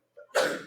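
A single short sneeze, a quick breathy intake followed by a sharp burst, close and fairly loud.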